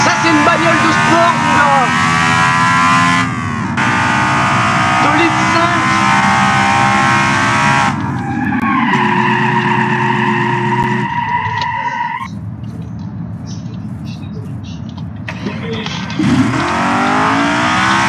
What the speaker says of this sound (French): Ça, c'est une bagnole de sport.